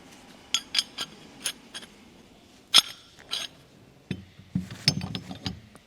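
Metal jaws of a two-jaw puller being fitted onto the tool's main body, a quiet series of short clinks and ratcheting clicks, scattered and close.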